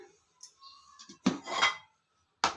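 A bowl is lifted out and handled in a kitchen, giving a few close clinks and knocks of dishware with short rattling contacts and quiet pauses between them.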